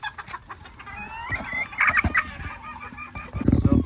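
Chickens and a rooster cluck in a barn of Old English game bantams and other birds, overlapping calls near and far, with a burst of louder clucking and rustling toward the end.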